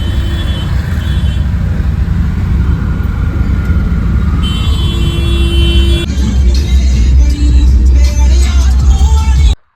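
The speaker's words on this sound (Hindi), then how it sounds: "ट्रैफिक है चारों तरफ।" Steady street traffic surrounds a market, with a continuous wash of car, bus and truck engines close by and a few brief horn-like tones, loud throughout until the sound cuts off at the very end.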